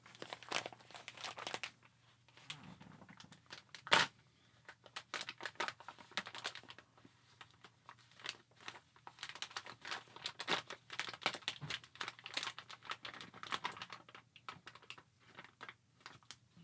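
Bag of Allegro organic medium roast coffee being opened, with repeated crinkling and rustling of the packaging close up, steady crackles throughout and one sharper rip or snap early on.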